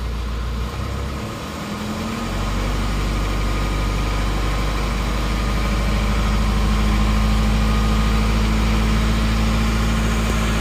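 An Isuzu Panther car engine idles steadily with a low, even hum and faint vibration, loud and close throughout with no talking.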